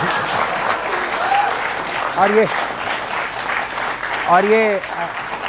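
Scattered applause from panelists in a TV debate studio, steady mid-level clapping running throughout while excited voices talk over it with rising, sing-song intonation.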